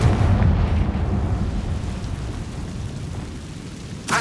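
Confringo fire spell blast in Hogwarts Legacy, a loud deep rumbling explosion that swells at the start and rolls on steadily for several seconds, ending in a short bright burst.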